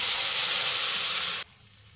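Loud hissing sizzle of water hitting a hot pan of prawns and greens being cooked, a steady spray of steam for over a second that cuts off abruptly into quiet.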